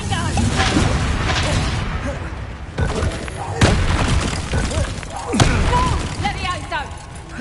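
Blasting-spell explosions in Hogwarts Legacy boom and crack amid a dense wash of combat effects, with several sharp impacts and a voice shouting spells over the battle.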